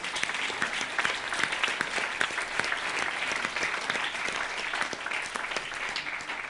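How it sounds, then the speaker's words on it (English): An audience gives sustained, lively applause, with many hands clapping densely and evenly at a close, steady level. "Give her a round of applause"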